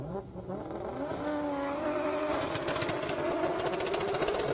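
A 1995 Toyota Supra making about 1,266 horsepower roars down an airstrip drag strip, its engine note climbing through rising revs into a loud, harsh, sustained howl with crackling exhaust.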